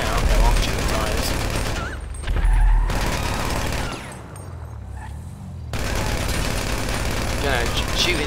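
Rapid bursts of gunfire aimed at a rider on a Sanchez dirt bike in GTA 5 Online, loud and dense, broken by short gaps, with players talking over it.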